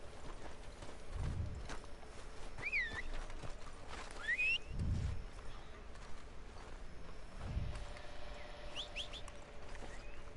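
Horse hooves clip-clop in Red Dead Redemption II, a few heavy low thuds spaced a couple of seconds apart beneath game ambience with chirping birds and soft mechanical clicks.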